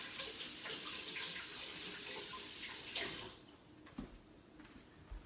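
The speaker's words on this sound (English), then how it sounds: "I'm gonna wash my hands really quick." Tap water runs steadily while hands are washed at a kitchen sink, a continuous hiss lasting about three seconds before cutting off, followed by faint clatters and handling sounds.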